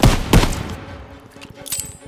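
Short burst of machine gun fire in Call of Duty WWII, two strong close cracks at the start followed by quicker, fainter rattling shots.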